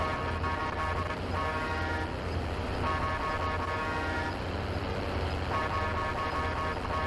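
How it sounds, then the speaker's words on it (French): Car horn honking in the video game Warzone, repeated sustained toots over a steady engine and road rumble, loud and close. "Klaxon."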